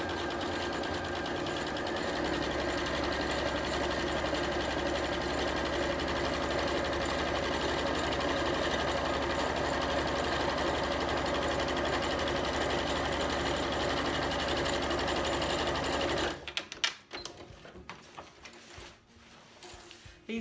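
A sewing machine runs continuously for a long stretch while stitching fabric for a noughts and crosses play mat, with the work rolled up through the machine's throat. A steady, close mechanical whir ends abruptly near the end, leaving faint handling noises.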